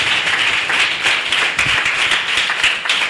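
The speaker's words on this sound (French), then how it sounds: "Applaudis pour le roi des rois." A church congregation claps in a loud, sustained burst of many hands with a faint rhythmic pulse, close and continuous throughout.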